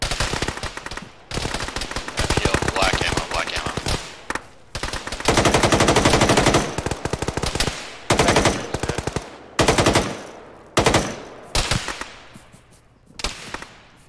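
Rapid automatic gunfire in the ShackTac military video game, long bursts of sharp, loud shots broken by brief gaps, with later bursts shorter and trailing off into echoing reports.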